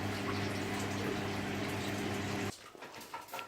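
Liquid pours steadily into a pan for a couple of seconds, then stops abruptly, leaving faint kitchen clatter.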